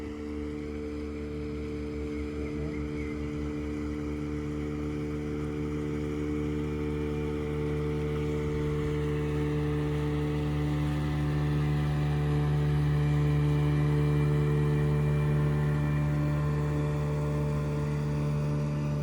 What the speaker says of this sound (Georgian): ნავი.